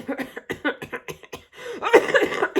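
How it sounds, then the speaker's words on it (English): A few short, rough coughs come in quick bursts, followed by a longer, throaty hacking fit, close up. "I still have a little cough going on"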